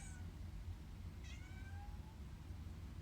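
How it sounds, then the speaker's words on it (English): A cat meows a few times, sounding fairly close but soft, with upward-gliding cries over a steady low background hum in a quiet room during a gentle yoga session. "coming back to the sound of my cat meowing"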